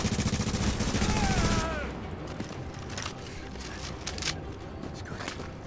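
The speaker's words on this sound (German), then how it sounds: "Hörst du mal auf, mit mich zu schießen, du Arschloch?" Automatic weapon fire in the video game Tom Clancy's The Division, a rapid, loud, rhythmic burst at the start that gives way to scattered distant shots and mechanical clatter.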